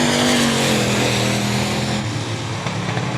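Race cars roar down the back straightaway of I-37 Speedway, a loud sustained engine drone with a steady pitched tone, close and dominant without talking.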